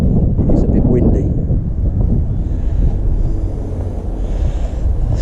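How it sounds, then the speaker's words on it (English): Wind buffets the microphone in heavy low rumbling gusts, with a person speaking over it at times. "It's a bit windy today."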